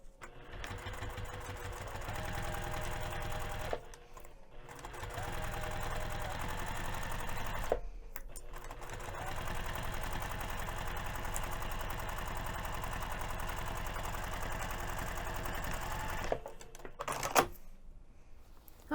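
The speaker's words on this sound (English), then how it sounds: "we're going to sew this pinned edge using a 1/4 of an inch seam allowance." A sewing machine runs a quarter-inch seam on a tote bag, whirring in steady close runs separated by short pauses, with no talking.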